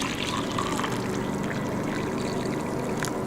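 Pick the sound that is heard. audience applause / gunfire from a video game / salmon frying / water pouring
water pouring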